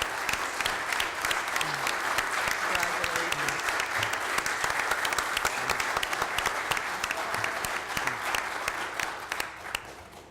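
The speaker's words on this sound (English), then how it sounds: "I just want a round of applause for his retirement." Sustained applause from a council meeting audience honoring a retiring fire chief, a dense steady patter of many hands lasting the whole stretch and tapering slightly at the end.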